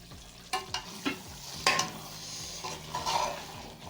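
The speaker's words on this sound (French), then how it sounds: "On a laissé mijoter ça quelques instants à feu doux." Beef and vegetable stew cooks in a pot on low heat, giving quiet sizzling and bubbling close by, with a few sharp clinks from a spoon against the pot.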